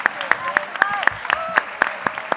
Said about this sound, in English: Clap it up for these folks